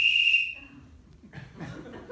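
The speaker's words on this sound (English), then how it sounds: "And the porter blows the whistle." One short, shrill blast of a train porter's whistle rings out sharply, then fades into quiet with faint background murmur.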